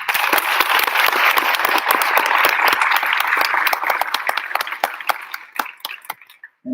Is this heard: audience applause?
yes